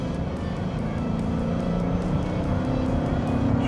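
A BMW E39 540i with a manual gearbox and V8 engine pulls at around 2000 rpm, giving a steady, deep, full engine drone that builds slightly in loudness, with tire and road noise underneath and no talking.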